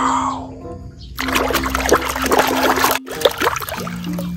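Water trickles and splashes close by during play with toy sea animals, a busy, bright patter with small splatters, while a voice speaks faintly underneath.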